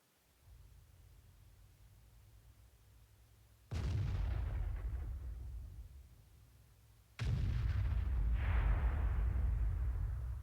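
Artillery shells land near a tank in the World of Tanks game: two heavy booming impacts a few seconds apart, each a sharp blast with a lingering rumbling tail over a low engine drone.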